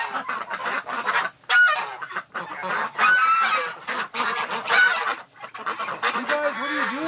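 A flock of geese honks noisily indoors, harsh overlapping calls rising and falling in bursts, with brief quieter gaps between.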